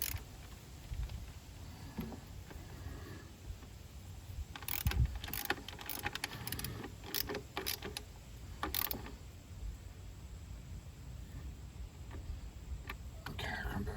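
A ratchet tightens intake bolts on a 2010 Hyundai Santa Fe GLS 3.5, with quiet clicking bursts scattered through a dim garage background and some faint talk.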